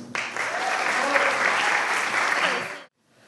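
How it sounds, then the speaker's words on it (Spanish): An audience applauds a speaker at a citizens' debate final, a loud, dense, steady clapping that lasts nearly three seconds and then stops abruptly, with faint voices underneath. "recibamos con un muy fuerte aplauso"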